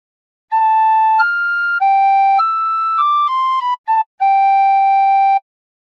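A tin whistle, or penny whistle, plays a phrase of God Defend New Zealand in clear, pure sustained notes that step up and down, with a short gap before the final long tone, solo and close.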